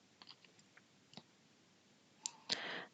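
Mouse clicks saving a worklog entry in Jira's issue view, heard as a few small, faint clicks early on, then two sharper, louder clicks near the end, the last one followed by a short burst of noise.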